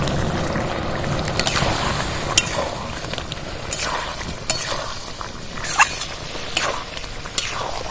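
Mustard paste stirred into a frying raw banana dish in a pan, a continuous sizzle under repeated scraping stirs and occasional sharp spatula clicks, close and fairly loud.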